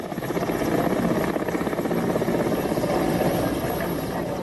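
An Air Force Mi-17 helicopter flies during heavy flooding and storm winds, its rotor giving a loud, steady, rhythmic thudding drone throughout.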